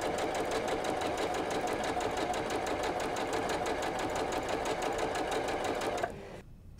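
A sewing machine stitches a quarter-inch quilt seam on a half-square-triangle four-patch block, a steady fast mechanical whir with even needle ticking that runs close and loud, then cuts off abruptly near the end.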